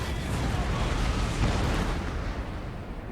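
Cannons fire in the game Napoleon Total War during a siege battle, producing a dense, continuous rumble of booms and explosions that is loud and close with no voices.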